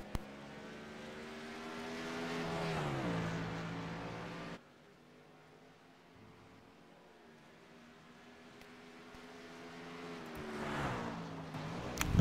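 Racing trucks lapping during qualifying at Mid Ohio, engines droning and rising past at mid distance, fading to a faint far-off hum in the middle before swelling again near the end.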